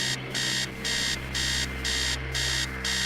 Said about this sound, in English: Upstairs, the sound of an alarm clock goes somewhere else in this house.